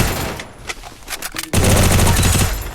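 Rapid automatic gunfire in a Free Fire battle royale match, loud and close, with scattered shots first and then a dense sustained burst that fills the second half.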